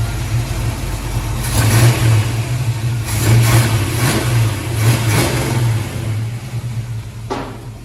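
A 1965 Chevy C10 pickup with a 400 small block, solid lifter cam, long tube headers and true dual Flowmaster exhaust rumbles loudly at close range, its deep burble swelling through several blips of the throttle.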